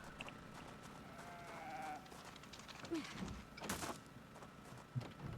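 Faint sheep bleats come from a video game, a few short cries spread over the clip beneath a low, busy background, with no voices heard.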